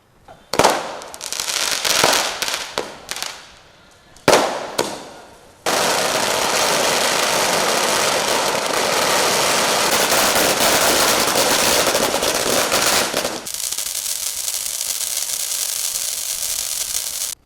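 Firecrackers burst in celebration at the Thrissur archdiocese headquarters and parish church: loud rapid crackling volleys and sharp bangs at first, then a long dense, roaring string of explosions that cuts off abruptly into a quieter tail.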